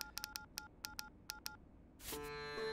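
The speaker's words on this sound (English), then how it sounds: "A horrible sound instead of an alert for incoming messages." A phone plays a harsh alert for incoming messages: a rapid string of short, sharp beeping tones in uneven bursts, then a louder sustained electronic chime at the end, close and alone.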